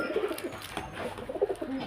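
Several male pigeons coo nearby, soft throaty phrases rising and falling in short bursts over light ambient noise.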